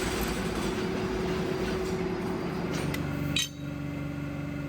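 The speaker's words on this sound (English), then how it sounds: "I'm drilling precise pinholes through the handle tang area for our future scales." A heavy-duty drill press bores precise pinholes through the handle tang of a forged knife blade. Its loud, steady machine drone runs unbroken for most of the stretch, then dips briefly near the end.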